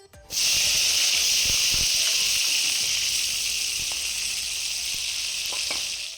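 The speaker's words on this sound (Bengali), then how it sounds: "এবার জিরে আর তেজপাতা প্রথমেই ফোড়নে দিয়ে দিচ্ছে মা" Cumin seeds and bay leaves drop into hot oil as a tempering for a goat kofta curry cooked outdoors under a mango tree, bursting into a loud, steady hiss that fades slightly over six seconds, with a few faint clinks near the pan.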